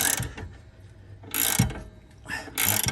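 A ratchet cranks a pinch bolt out of an Audi B8 front control arm, giving bursts of rapid clicking that alternate with quieter pauses, close up in a workshop setting.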